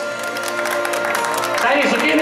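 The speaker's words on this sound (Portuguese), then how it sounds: "Palmas pra Thaís." Guests at a silver wedding anniversary party clap for a young woman being honored, a continuous roomful of applause under a speaking voice, swelling slightly toward the end.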